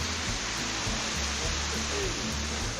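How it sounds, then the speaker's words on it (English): A rain-swollen mountain waterfall, heard as a continuous hissing rush of water at moderate level, steady with no break. "We've got water at every waterfall today."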